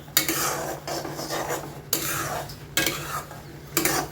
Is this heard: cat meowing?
no